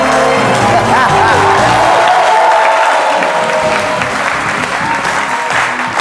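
A studio audience at a midday television show applauds five contestants, loud sustained clapping mixed with cheers and whoops, a voice sounding over the crowd.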